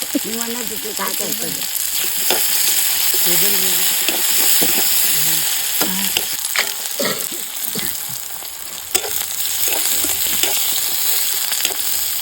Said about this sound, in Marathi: मी कांदा ऍड करतो मग अशी ते ना फोडणी चांगली झाली